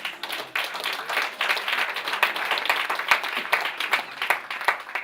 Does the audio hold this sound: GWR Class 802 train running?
no